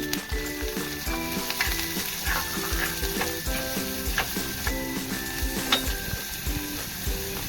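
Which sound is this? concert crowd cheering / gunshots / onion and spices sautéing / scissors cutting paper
onion and spices sautéing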